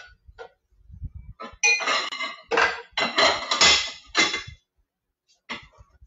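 A pan handled while eggs are being prepared in a kitchen, with clustered clinks and clanks of metal and dishware in several bursts, fairly close, separated by quiet gaps.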